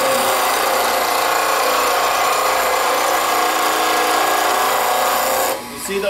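A bench grinder sharpens a woodturning tool, throwing sparks: a loud, steady rasping grind that holds for over five seconds, then eases off abruptly as the tool is lifted away.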